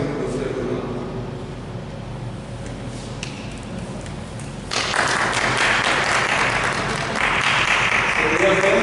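Church congregation applauding during a French-language worship service, a broad wash of clapping that swells louder partway through and keeps going, with voices mixed in underneath.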